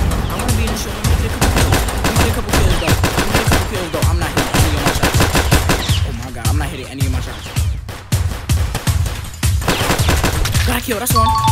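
Video game shootout with near-constant rapid automatic gunfire, loud and rattling throughout, with brief dips in intensity and a player's voice talking over the shooting.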